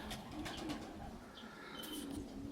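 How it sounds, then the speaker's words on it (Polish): Faint, soft cooing of racing pigeons arriving at a loft after a race flight, heard in the distance over a low outdoor background hiss, with a few light bird chirps. "O, widzimy trzy gołębie już siedzą"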